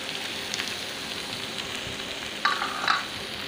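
Bitter gourd (karela) with dry masala sizzles steadily in a pan, with a couple of sharper scraping stirs near the end over the constant close frying hiss.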